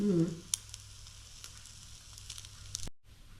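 Masala eggy bread fries in ghee in a pan with a soft, steady sizzle throughout, a light tap near the start, and the sound cutting off briefly near the end.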